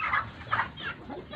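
Fowl in a gamecock pen in rural Labuhan Batu, with a few short, separate clucking calls rising from a quiet background.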